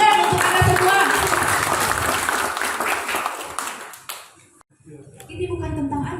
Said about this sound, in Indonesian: Tepuk tangan untuk Anda semua.